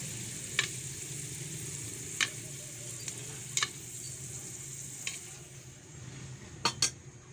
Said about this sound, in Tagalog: Kunin na natin at iprito din natin yung pork